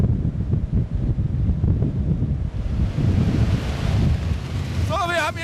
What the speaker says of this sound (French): pourrait-il faire face à la puissance maximale de la soufflerie?